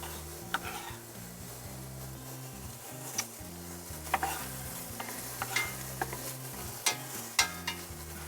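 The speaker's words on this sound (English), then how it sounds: "If you just want to mix the olive oil around so it's all around it. And we'll toss the onions right in." Onions sizzling in olive oil in a pan while being stirred, with a soft, steady frying hiss and scattered light clicks and scrapes of the spoon against the pan, heard close with no talking.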